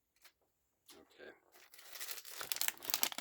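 A sealed plastic package being opened after its corner is nipped with scissors, starting with a few faint scattered rustles, then building into loud, dense crinkling and tearing of plastic close up.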